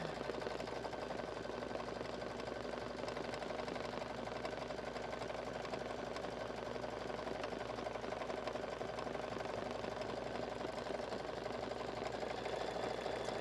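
A sewing machine stitches a raw-edged felt piece, running in a steady, continuous mechanical hum with fast even needle rhythm throughout, fairly close and alone.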